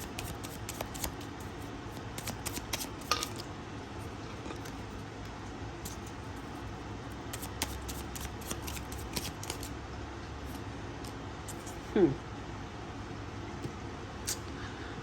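Soft riffling and flicking of tarot cards being shuffled, in repeated quick bursts over a quiet room background.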